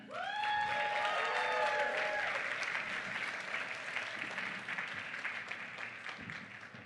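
An audience at the Nevada People's Presidential Forum in Las Vegas breaks into loud applause, opening with a few high whoops and cheers before settling into steady, dense clapping that slowly thins out.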